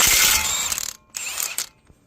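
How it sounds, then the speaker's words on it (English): A Milwaukee impact wrench hammers on a Nissan Altima CV axle nut, two loud close bursts of rapid ratcheting impacts, about a second and half a second long, separated by a short silence. "My Milwaukee impact puts out a maximum of 450 foot-pounds of torque, which should be more than enough to bust this thing loose"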